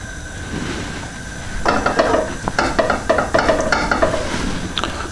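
Pork chops coated in seasoned flour are set into hot oil, bursting into a loud, crackling sizzle with spattering pops that swells and continues steadily alone, no voices.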